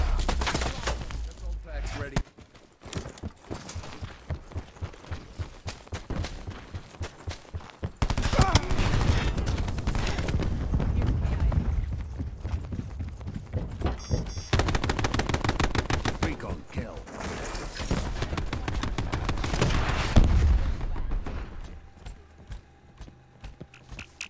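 Gunfire in the Call of Duty Black Ops 4 video game, with dense bursts of rapid automatic shots and blasts continuing almost the whole time, loud and close, with players talking over it.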